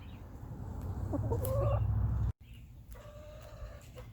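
A hen clucks softly in short bursts, close by, over a low steady hum, with a brief dropout partway through.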